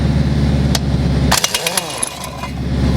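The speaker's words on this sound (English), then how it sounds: "the 1-inch impact, and we're gonna try and break them all off with that thing" A 1-inch drive industrial air impact wrench, fed by a narrow 3/8-inch air hose, works against large bolts: a loud steady pneumatic roar cuts off into a burst of sharp hammering rattles, then the roar builds again.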